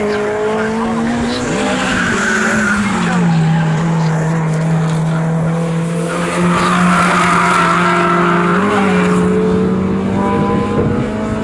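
Classic VW and Honda VTEC race cars lap Snetterton circuit on the final lap, engines droning loud and near with a steady pitch that dips and climbs through gear changes, tyres squealing as they corner.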